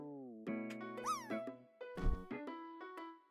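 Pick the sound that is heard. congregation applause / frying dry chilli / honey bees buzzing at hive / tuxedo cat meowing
tuxedo cat meowing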